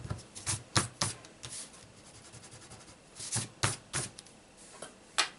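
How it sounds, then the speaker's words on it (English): An eraser rubs out small pencil marks on cardstock for a Stampin' Up! junior legal pad cover, a series of brisk scratchy strokes in uneven bursts, close up and alone. "I'm going to go ahead and erase my little pencil marks"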